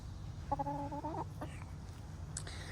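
A backyard hen in an urban homestead garden gives a drawn-out cluck followed by a couple of softer, brief calls over a low steady background hum.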